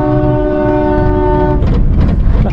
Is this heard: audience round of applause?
no